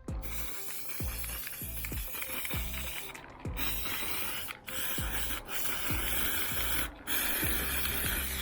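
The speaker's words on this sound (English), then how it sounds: "For the mounting plate, I will use this White Knight flat black oil enamel spray" Aerosol spray bursts of White Knight flat black oil enamel coating a mounting plate, steady close hissing interrupted by short pauses, with ratcheting clicks of the can's nozzle in between.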